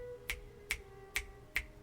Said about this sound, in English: I'm going to snap instead of clap this time.